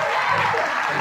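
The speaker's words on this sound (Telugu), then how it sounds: "అందరూ చప్పట్లు కొట్టాలి, చప్పట్లు కొట్టాలి" A crowd at a felicitation ceremony applauds in a brief, dense, steady burst of many hands clapping at close range.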